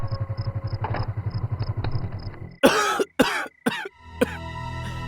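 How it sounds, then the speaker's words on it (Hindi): Several harsh coughs burst out close by in a quick cluster, following a rhythmic putter like a small idling engine that fades beneath them. "तुम्हें खांसी है ना?"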